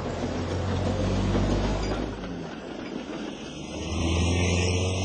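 The Fat Controller's car speeds along a road, a steady engine and road rumble running throughout, easing slightly in the middle before swelling louder again near the end.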